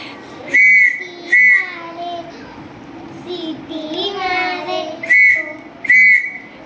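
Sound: whistle blowing

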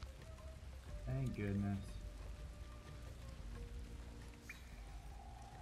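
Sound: rain falling in the video game Ancestors: The Humankind Odyssey

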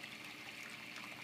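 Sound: small waterfall in a chameleon enclosure

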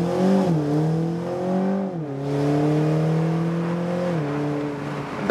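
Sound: BMW Z4 sDrive30i launch control acceleration to 100 km/h

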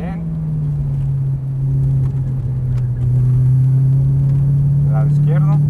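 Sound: Audi R8 sports car accelerating in fourth gear

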